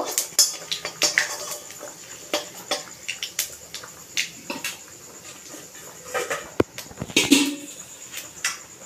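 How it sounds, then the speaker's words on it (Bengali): Panch phoron spices being stirred in a pan while cooking taro greens with hilsa fish head, with a series of close metallic scrapes and clinks of a spatula, irregular and moderately loud. "ভালো করে একটু নেড়ে চেড়ে নেব।"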